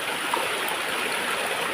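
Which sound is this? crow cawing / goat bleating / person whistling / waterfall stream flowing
waterfall stream flowing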